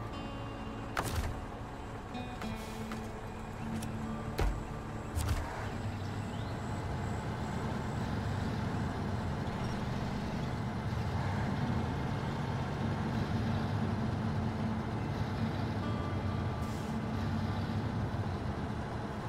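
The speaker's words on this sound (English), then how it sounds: "I think it's just that I'm dragging this truck." A heavy truck in SnowRunner labors on, dragging another truck through rutted ground: a steady, continuous engine drone and grinding rumble with a few sharp clunks early on, all fairly quiet and without talk.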